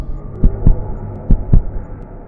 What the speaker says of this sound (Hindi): मीनू मौसी का दिल डर के मारे जोर जोर से धड़कने लगता है।